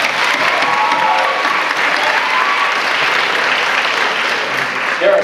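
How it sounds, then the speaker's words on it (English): A crowd at an evening awards gathering claps steadily and loudly throughout, a dense, sustained applause close by. "Give yourselves a round of applause"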